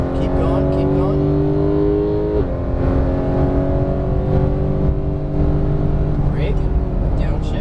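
Porsche 911 GT3 (991) engine howling on a racetrack during a driving session, loud and continuous with steady revs and a gear change, while an instructor talks over it.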